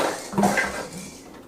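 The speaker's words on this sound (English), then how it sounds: "we're just going to go ahead, get this bowl out the way" Bowl being moved aside on a kitchen counter, a short close clink and scrape of dishware, quick and single.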